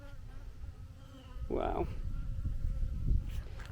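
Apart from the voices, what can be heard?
bees buzzing around a person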